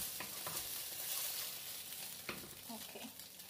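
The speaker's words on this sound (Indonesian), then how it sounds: "Okay, saya mau goreng ikan asin." Salted fish fries in a pan, with a steady bright sizzle of hot oil and occasional sharper pops and spatters, close and continuous with no talking.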